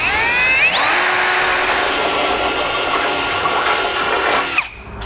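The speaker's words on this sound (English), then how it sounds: "drill through the bumper" A power drill bores through a vehicle's front bumper while a Blue Ox base plate is fitted. The motor whines up in pitch and then holds a loud, steady grinding drone for about four seconds before cutting off abruptly.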